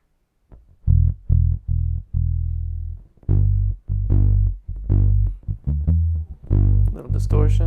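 Distorted bass guitar through an SSL SiX mixer plays a run of punchy, gritty notes in a choppy rhythm, loud and close, with no talking.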